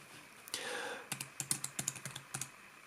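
Rapid keystrokes on a foldable Bluetooth keyboard, a dozen or so clicky taps in an uneven typing rhythm after a soft rustle, close and fairly quiet with no talking.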